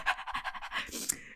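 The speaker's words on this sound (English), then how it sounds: "My breathing is too loud. Fuck, I am panting already." A person pants loudly in quick, rhythmic breaths at close range, with no words spoken.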